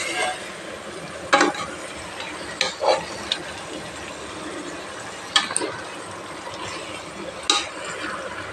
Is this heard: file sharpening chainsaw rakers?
no